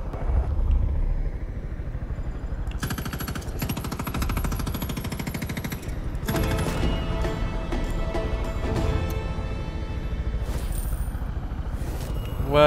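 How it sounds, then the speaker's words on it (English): A helicopter in the video game Far Cry 5 gives a rapid rotor chop and a heavy mechanical drone that pulses steadily and loudly through the whole stretch, with extra engine and combat noise layered on top. "Helicopter OP?"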